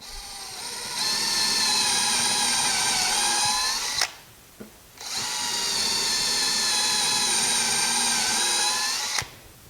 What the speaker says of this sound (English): Slide your drill in there and then just drill it out.